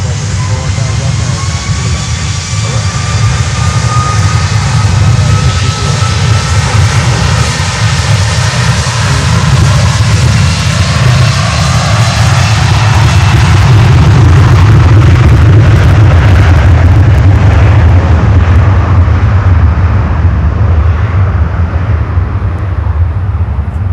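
An Avianca Cargo plane takes off from runway 9 at Miami, its engines roaring loud and steady for the whole stretch, the pitch slowly sweeping as it climbs away.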